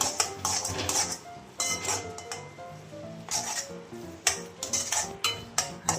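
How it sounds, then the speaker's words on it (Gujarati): Semolina ravo stirred in a pan with sugar and milk, a spoon scraping and clinking against the metal in quick irregular strokes, close and fairly loud with no talking. "થોડી વાર હલાવતા રહેવાનું"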